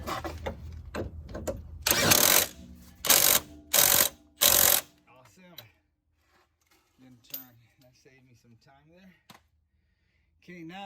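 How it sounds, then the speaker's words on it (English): Impact gun working the front strut nuts on a 2013 Chrysler 300: several loud, close bursts of rattling hammering, then quieter mechanical clicks and a voice talking. "I'm gonna hit it with the impact gun and let's see if the whole thing doesn't turn"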